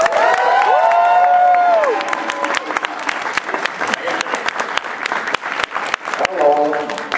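A crowd at a Magfest convention claps and cheers, dense and loud at first, then thinning into scattered claps. People shout and talk over it nearby.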